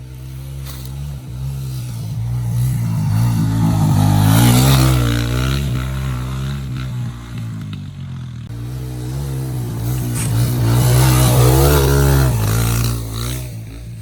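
A 2020 Suzuki DRZ 125 pit bike ridden on sandy ground, its small engine droning loud and close and rising and falling in pitch as it accelerates and eases off through the run.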